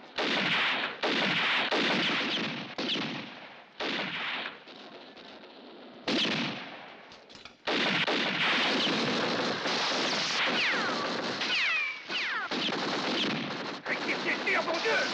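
Sustained machine gun fire from a western film battle scene, loud and continuous with brief pauses between long bursts, mixed with scattered shots and shouting voices.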